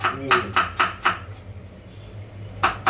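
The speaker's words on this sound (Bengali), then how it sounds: "রসুল ভাই নিজেই সবসময় পেঁয়াজ কাটে" A knife chops onions on a board in a home kitchen, five quick crisp strokes in a steady rhythm, a pause, then another cut, close and clear over a low background hum.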